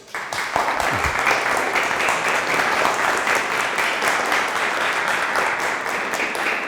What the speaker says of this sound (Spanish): por favor recibámoslo con un caluroso aplauso